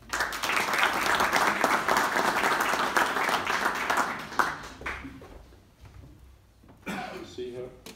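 Warm audience applause welcomes a speaker at a lecture event: dense, steady clapping from a crowd for about four seconds, then fading into scattered claps as voices begin to talk.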